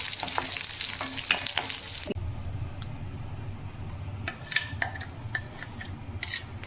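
Garlic fries in oil with a dense, close sizzle, then curry leaves drop in and the crackling shifts to a busier, lower spatter with occasional bright pops and light utensil scrapes.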